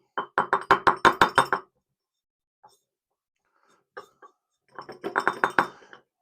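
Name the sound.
ingredient being tipped into a glass bottle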